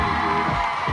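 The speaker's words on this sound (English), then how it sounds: "Give him a round of applause" A crowd at a lively event cheers and whoops loudly, with children shouting among the voices in a brief, dense burst.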